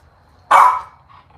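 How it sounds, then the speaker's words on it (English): A dog gives one loud, close bark with no voices around it. "Because he keeps barking."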